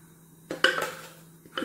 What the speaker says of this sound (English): So I'm just removing it from the blender.